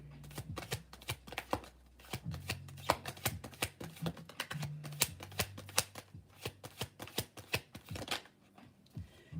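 Tarot cards are shuffled by hand in a long, busy run of crisp slaps and riffles, close and steady with brief uneven pauses.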